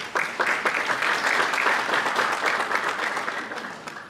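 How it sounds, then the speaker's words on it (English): Students applauding their parents at a high school honor student breakfast, a dense, steady clapping from a crowd lasting the whole stretch and fading slightly at the end. "So students, let's give the parents a round of applause."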